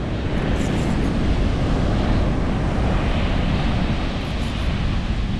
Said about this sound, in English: Just wait for that big wave, and once that big wave comes in, then that's when you pull him.